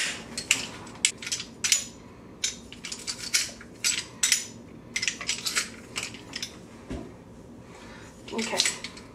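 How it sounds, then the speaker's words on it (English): A garlic press on its slicing setting cuts garlic into a pan for Filipino adobo, giving a run of sharp metallic clicks and clacks in uneven bursts, close by, with occasional talking in between. "I have my garlic press. I put it on the sliced function,"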